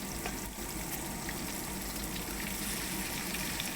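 Beef pieces go into spiced masala frying in a pot for Afghani kabuli pulao, producing a loud, constant, close sizzle and bubbling that holds steady throughout.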